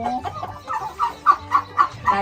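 Native Thai village chickens cluck at feeding time, close and fairly loud, with a quick run of short, evenly spaced clucks and faint farmyard background.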